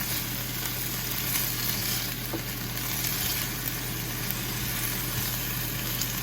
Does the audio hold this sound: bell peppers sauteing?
yes